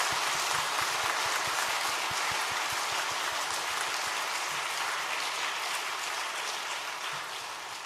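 A church congregation applauds newly baptized children and adults during a Sunday baptism service, a dense sustained wash of clapping that fills the room and tapers slightly toward the end.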